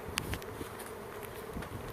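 Swarm of honeybees converging on a catch box outdoors, a faint steady buzzing drone with brief individual bee passes flicking by nearby, no voices.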